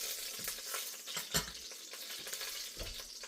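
About 2 tablespoons of hot oil sizzle in a pan for a shrimp stir-fry, a steady crackling hiss with scattered pops and one sharper spatter, close and quiet, with no talk.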